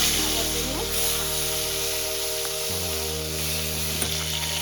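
Fish fries in smoking-hot oil with a broad, constant sizzle. A low steady hum and tonal drone run underneath, and a few faint clicks stand out.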